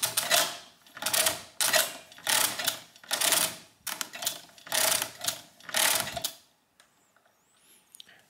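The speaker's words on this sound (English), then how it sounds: "so I'll turn the crank 6 times" An Odhner arithmometer mechanical calculator has its crank turned six times, each turn a loud ratcheting mechanical whir in an even rhythm of about one per second, followed by quiet faint clicks.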